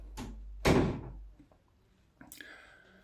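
A house door closing, heard as a soft knock followed by a loud, close thunk of the door shutting, then a quieter rattle and a short burst of voice.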